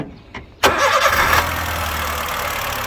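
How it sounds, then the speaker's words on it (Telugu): A 2016 Honda Brio S manual petrol car cranks briefly and catches, then settles into a steady, smooth, low idle that continues close by. "గమనించండి ఫ్రెండ్స్ వెహికల్ స్టార్ట్ అయింది స్టార్ట్ అయింది బట్ స్టార్ట్ అయినట్లుగా మనకి ఫీల్ కూడా లేదు ఎందుకంటే అంతా స్మూత్గా ఉంది"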